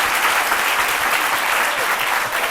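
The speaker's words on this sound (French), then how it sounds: "Applaudissez ça, non?" A studio audience on a midday talk show applauds steadily, a full, even wash of many hands clapping close by for a couple of seconds with no break.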